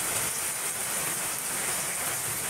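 Steady daytime rain in Pabna, Bangladesh, a dense even hiss of drops pouring down without pause, close and continuous with no voices.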